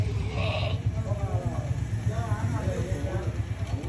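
Goats bleat in short, wavering calls near the start, then more faintly, while people talk continuously over them.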